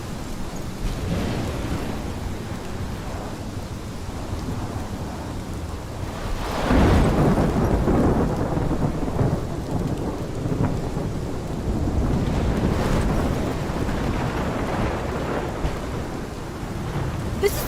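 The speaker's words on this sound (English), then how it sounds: "This is my storm." Heavy rain pours steadily in a thunderstorm in the video game Life is Strange Remastered, with deep rumbling thunder swelling loudly partway through and again later, no voices present.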